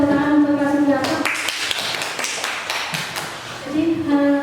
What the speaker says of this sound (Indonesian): tepuk tangan untuk Pak Sugiarto